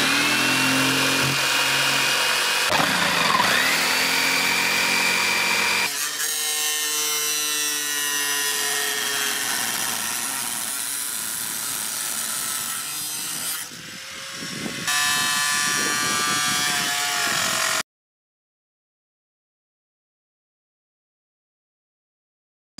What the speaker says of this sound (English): Jigsaw it is.